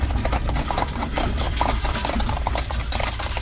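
Horses pulling a wagon along a road, a steady rhythmic clip-clop of hooves with wooden creaking and rattling of the wagon under a loud low rumble, no talking.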